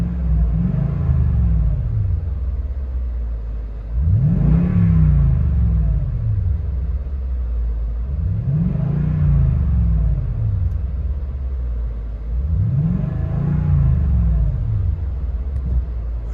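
A 2014 Toyota Tundra Platinum with a 5.7L V8 and a true dual 24-inch Magnaflow exhaust with turndowns, heard from inside the cab: a deep idle rumble swells with four evenly spaced revs, each rising and falling smoothly.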